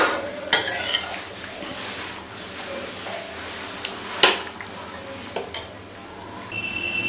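Potato kurma is spooned from a pan into a serving bowl, with scattered metal clinks and scrapes of utensils on cookware over a faint background hiss.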